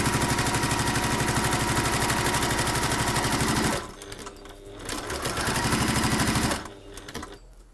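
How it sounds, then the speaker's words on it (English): A sewing machine stitches across the top of a bag in a workshop, running in a steady fast rhythm for several seconds, pausing, running again, then stopping. "we're sewing across the top."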